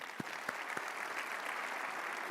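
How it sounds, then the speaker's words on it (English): An audience at the ARPA-E energy innovation summit applauds Secretary Wright, a quiet, steady stream of clapping from a seated crowd with a few sharper claps near the start and no speech. "Let's give another round of applause to Secretary Wright"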